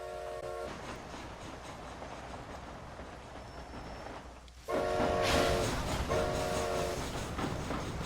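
A train in Red Dead Redemption: Undead Nightmare rumbles and clatters along the rails, its horn blaring in short bursts at the start and again, louder and nearer, toward the end.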